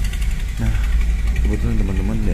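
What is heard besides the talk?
motorcycles idling while waiting on the road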